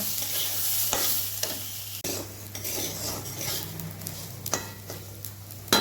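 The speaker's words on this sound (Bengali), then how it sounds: "পোলাও হবে পোলাও ভালো করে ভেজে নিতে হবে" Rice sizzling as it is fried for Bengali pulao in a pan, with steady crackling and repeated scraping stirs and occasional clinks of a spoon against the pan, close and loud, with no talk.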